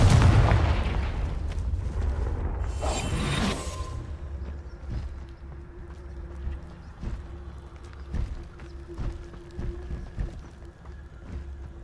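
A Confringo spell explosion in the Hogwarts Legacy video game bursts loudly near the start, a blast of broad noise, then trails into low rumbling game ambience with scattered faint thuds.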